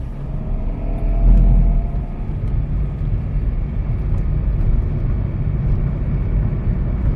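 A hybrid car's engine, after new ignition coils and spark plugs, rumbles low and steady as the car pulls away, swelling briefly early on before settling into a constant drone from inside.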